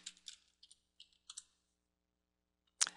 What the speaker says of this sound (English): I'll type in FTP and then the address of the FTP server.